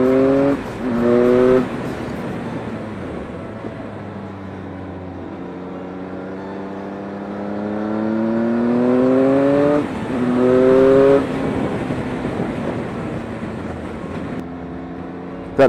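Triumph 1050 Speed RS motorcycle on a test ride, its engine note rising and falling through several upshifts and accelerations, loud and close with wind rush, no talk.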